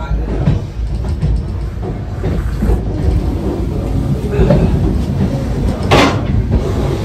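Passenger train from Jammu and Kashmir to Kolkata running through fog, a steady loud rumble and rattle of the carriages with clanks and a brief sharp hiss near the end.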